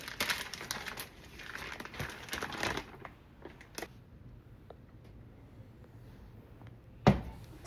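Plastic packaging crinkles in short rustling bursts while a turkey brine mix and brining bag are unpacked, busiest early on, then sparse small handling noises and one sharp knock near the end, with no talk.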